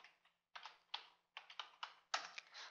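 A username and password are typed on a computer keyboard in quick soft clusters of key taps, with brief pauses between the bursts. The typing is close and quiet, and no one speaks.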